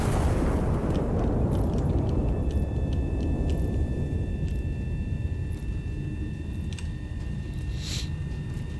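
A heavy turret cannon fires in the video game Iron Nest: Heavy Turret Simulator, a loud deep boom that rolls into a long, sustained rumble and slowly fades, with no talking.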